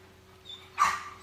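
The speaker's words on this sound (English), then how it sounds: "Oh, one of the puppies is coming back in." A puppy gives a single short, sharp bark near the end, over a quiet background hum.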